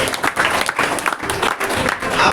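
Audience clapping at a church women's fellowship skit performance, a burst of scattered hand claps from a small indoor crowd, fairly close and lively, with a few voices mixed in.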